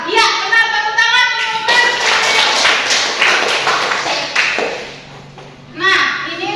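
Students clapping together in a classroom during a science lesson, loud and close, mixed with children's voices and a teacher speaking, then dying away before a short burst of talk.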